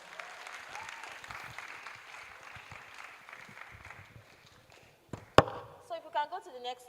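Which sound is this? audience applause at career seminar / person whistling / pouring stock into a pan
audience applause at career seminar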